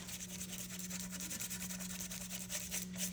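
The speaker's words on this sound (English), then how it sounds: "I take a stiffer brush and I just, these are the ones I did. This one, I just start rubbing the excess off." A stiff brush rubs excess paint off a painted surface in quick repeated back-and-forth strokes, quiet and close, over a low steady hum.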